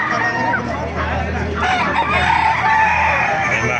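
Sweater gamefowl roosters at a chicken market crow and cluck loudly and continuously, several birds overlapping close by, with people talking underneath.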